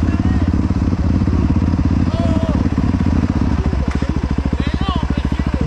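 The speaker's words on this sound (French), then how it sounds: "Bon, on éteint le moteur qui a l'air drôle." A motorcycle engine runs loud and steady, its low rumble turning into a fast, even pulsing toward the end, while people talk over it.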